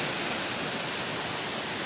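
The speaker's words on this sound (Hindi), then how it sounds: "और वो जो झरना है उस पर पानी बहुत ज़्यादा है।" A waterfall in Pauri Garhwal, Uttarakhand, pours heavily as a steady, dense broadband roar that stays constant and unbroken, with no voices over it.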